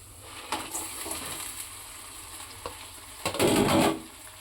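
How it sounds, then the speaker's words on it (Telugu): Crabs frying in a pan give a steady close sizzle, broken by scraping stirs and a louder hiss burst toward the end. "ఇప్పుడైతే కొంచెం ఫ్రై అయ్యాయి కదండి, ఇప్పుడైతే మనం పీతలను అయితే యాడ్ చేసుకుందాం."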